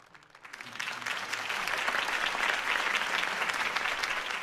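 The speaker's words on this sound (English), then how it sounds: "If only Mr. Wayne, my campaign's largest backer, could have heard that applause" Crowd applause in a Batman Telltale video game political rally scene, swelling from quiet into sustained loud clapping that holds steady throughout.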